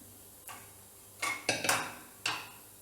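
A pressure cooker holding cooked chicken salna being opened, with a few sharp metallic clicks and clinks of the lid, close and fairly quiet, spaced irregularly.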